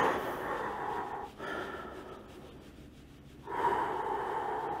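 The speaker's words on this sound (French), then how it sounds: "on reprend une grande respiration" A deep breath drawn during a seated hand-stretching exercise for arthritis, a broad breathy rush that dips midway and swells again, close and fairly loud with no talk.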